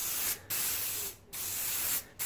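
Waterproofing coat hisses from a spray can onto a tent in three long close bursts separated by short pauses, with no talking.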